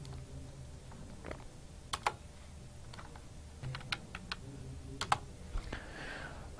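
Someone types an expression on a computer keyboard, sparse individual key clicks at irregular intervals, close and fairly quiet over a low room hum.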